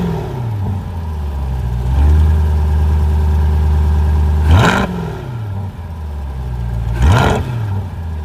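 A 2020 Corvette with 495 horsepower runs nearby, idling with a deep steady burble and then blipping the throttle twice into sharp rising revs that settle back to idle.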